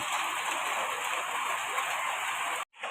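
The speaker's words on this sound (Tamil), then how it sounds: "வெளியில் சரியான மழை பெய்யுது" Heavy rain falls steadily outside a village home, a dense, even wash of noise that holds constant and near before cutting off abruptly near the end.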